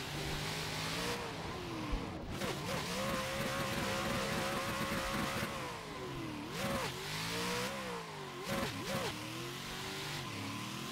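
A drift car's engine revs hard and continuously through a jump drift, its pitch swooping up and down with throttle blips and shifts, loud and close with no talking.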